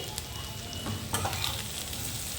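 Capsicum and cabbage fry in a hot pan for egg rice, a steady close hiss and crackle of sizzling with faint stirring scrapes, no voices over it.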